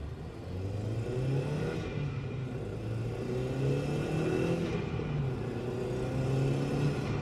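A car with a short shifter pulls out and accelerates through the gears, engine note rising and falling in steady sweeps from inside the cabin, moderately loud, no talking.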